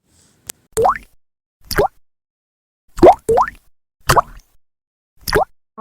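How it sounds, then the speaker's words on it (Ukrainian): About six separate plopping water drops fall from melting icicles at irregular intervals against silence, close and distinct. "це крапають крапельки з бурульок"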